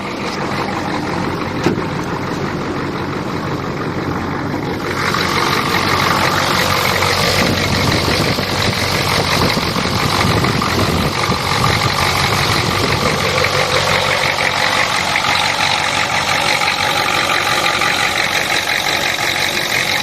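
A 1983 farm truck engine idles steadily and smoothly for about twenty seconds, a dense continuous rumble heard close and alone with no talk, growing slightly louder and fuller after the first few seconds.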